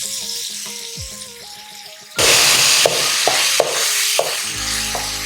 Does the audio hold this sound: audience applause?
no